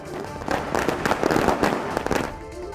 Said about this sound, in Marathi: मराठा बांधवांनी फटाक्यांची आतषबाजी करत जल्लोष केला